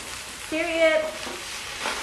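Snow peas stir-frying in a pan, a soft continuous sizzle with a brief tonal scrape of the utensil against the pan partway through, heard close with faint background hiss.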